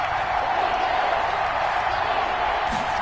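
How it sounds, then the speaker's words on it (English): A stadium crowd roars steadily at a football game, urging on the defense on third down, a dense, continuous wash of cheering and noise that holds at a constant level throughout. "This crowd urging on their defense."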